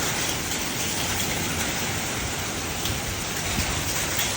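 Heavy rain in a thunderstorm pours down in a dense, loud, unbroken hiss, a continuous downpour with no breaks and no voices.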